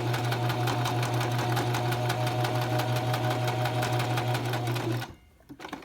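A sewing machine stitches a fabric face mask in a steady, fast mechanical run of needle strokes, close and loud, stopping abruptly near the end.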